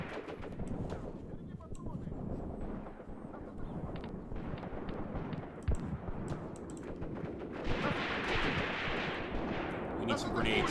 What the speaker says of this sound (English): Get some grenades in there